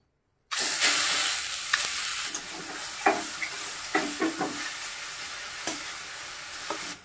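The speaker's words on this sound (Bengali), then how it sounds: "কড়াইতে 1 চামচ ঘি দিয়ে দিচ্ছি। গাজর বাটাটা দিয়ে দিচ্ছি।" Carrot paste hits hot ghee in a wok with a sudden loud sizzle, then a steady frying hiss marked by several sharp scraping stirs and clicks.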